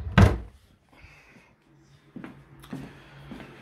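A drawer is pushed shut with a solid thunk at the start, followed by quieter scrapes and small knocks of handling in a room.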